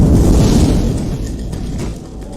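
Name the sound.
gasoline fire igniting with explosion in a film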